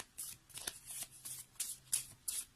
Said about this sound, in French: Je pense que je vais devoir couper mon jeu.